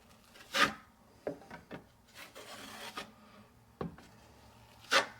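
A drywall knife spreads a very thin coat of joint compound over a heavily taped wall seam during apartment maintenance. Soft, quiet scrapes come in irregular strokes, with a few sharper swipes among them.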